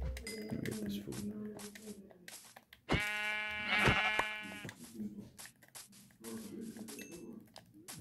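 A sheep in the game Minecraft lets out one loud, wavering bleat midway, with the player's voice talking before and after it.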